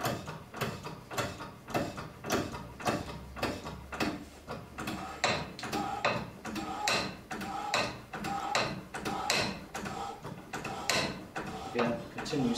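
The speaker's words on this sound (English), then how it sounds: "Continue swaging until the needle becomes level with the dial." A Sparex swage machine swaging a ferrule onto a pipe, a steady train of rhythmic mechanical clanks and knocks repeating roughly twice a second, close and even, with a voice speaking alongside.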